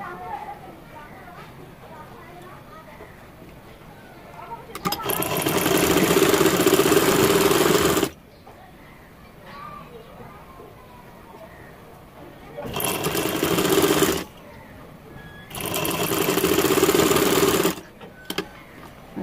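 A sewing machine runs in three steady bursts of several seconds each, a loud close whirring hum, double stitching a boy's baby outfit, with pauses between runs and a voice talking in the gaps.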